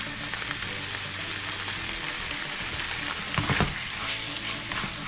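A sloppy joe meat mixture simmers and sizzles in a pan over low heat, a steady close fizzing crackle like light rain, with a brief louder burst of bubbling near the end.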